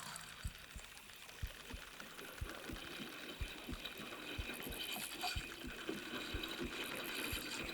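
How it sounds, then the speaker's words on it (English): A heartbeat effect plays while a hooked trophy bass is reeled in on the St. Johns River in Bassmaster Fishing 2022. Soft, regular low thumps pulse steadily against quiet water and reel sounds. "It's got a heartbeat. It's a big trophy."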